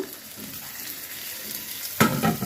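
Chopped tomato drops into a hot pan of frying onions and sizzles. A steady low crackle jumps into a louder, bright hiss partway through as the tomato hits the oil.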